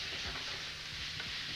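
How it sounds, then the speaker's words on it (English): Chicken browns in a pan with turmeric and coriander, giving a soft, steady sizzle and crackle that is quiet but continuous, with no talking. "You can hear that sizzle."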